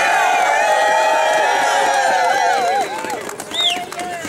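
A large outdoor crowd at an anti-fracking rally in Binghamton cheers and whoops loudly and steadily, with whistles and shouts rising over the babble of many voices.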